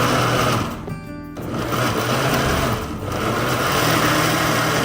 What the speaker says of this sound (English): Let it blend for like 20 seconds.